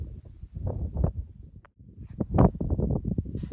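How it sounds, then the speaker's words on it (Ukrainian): Strong wind buffets the microphone with low rumbling gusts, steady and close, broken by a brief lull midway, outdoors during a coin-hunting outing. "вітерець сильний, тому буду кричати і ховатися від нього"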